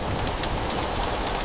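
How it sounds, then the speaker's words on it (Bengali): Steady rain falls outside a house in a dense, even hiss with no pauses and no voices. "কতদিন ধরে বৃষ্টি পড়ছে"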